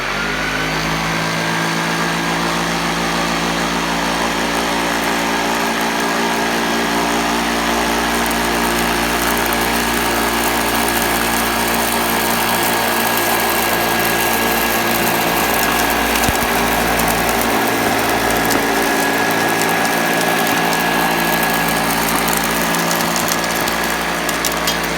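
A Hoover Junior U1036 upright vacuum cleaner runs continuously with a loud, steady motor whine and droning hum, unbroken for the whole stretch with no talking.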